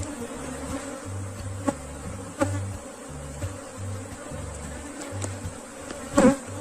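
Honey bees drone around an open hive of a freshly split colony, a steady close buzz with a few sharper swells as individual bees pass near, and no one speaking.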